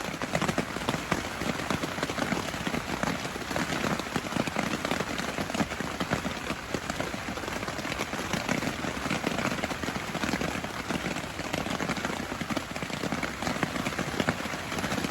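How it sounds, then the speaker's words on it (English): Steady rain drums on a tent during winter storm camping, a dense continuous patter that stays loud and even throughout with no talking. "It's raining a bit harder now."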